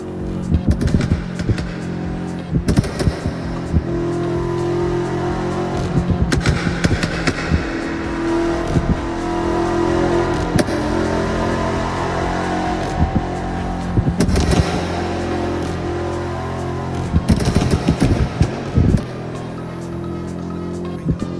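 A BMW X5M's engine roars loud and close throughout a No Hesi driving game, holding a steady high-revving drone with brief bursts of harder acceleration, and someone talks over it.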